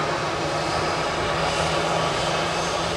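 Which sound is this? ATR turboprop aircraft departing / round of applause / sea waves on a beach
ATR turboprop aircraft departing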